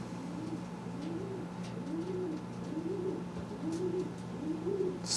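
Racing pigeons in a loft coo steadily, one repeating rising-and-falling call about every second at moderate distance, over a faint steady hum.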